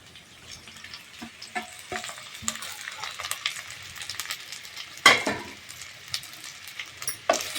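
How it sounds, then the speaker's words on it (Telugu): Taro root curry with onions and oil stirred slowly in a pan, a soft ongoing sizzle with scraping strokes of a spoon and a few louder clinks near the end. "ఇప్పుడు దీన్ని మనం మెల్లగా కలుపుకుందాం"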